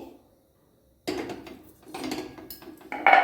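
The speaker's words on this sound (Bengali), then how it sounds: "আমি গ্যাস থেকে কড়াইটাকে নামিয়ে নিচ্ছি।" A wok lifted off a gas stove while flatbread is being cooked, heard as a silent pause and then a run of close metallic clanks and scrapes of cookware, ending in a brighter, louder clatter.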